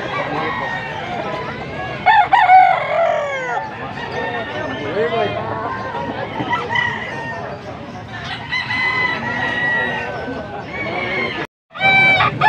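A rooster crows loudly nearby during a rooster sale in Bocaue, with other fowl clucking and calling around it and a person speaking in between.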